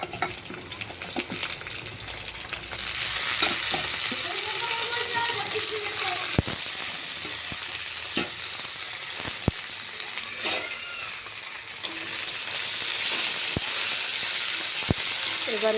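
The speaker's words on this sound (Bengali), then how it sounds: "এবার দিয়ে দেব বেগুনটা, তেলের মধ্যে ছেড়ে দেব।" Eggplant dropped into hot oil over already-fried onions, a fish-curry preparation, bursts into a dense, steady sizzle a few seconds in and keeps hissing, with sharp spatula taps and scrapes punctuating it.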